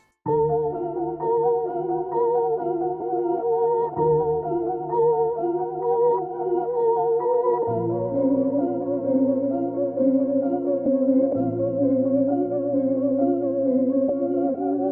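A looped musical sample with reversed slices pitched up two semitones, giving smeared, backward-swelling tones, repeating in sections without any voices.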